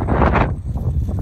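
Strong wind buffets the microphone outdoors at a bivouac on Noirmoutier, a loud, close rumbling roar that surges and dips over about a second.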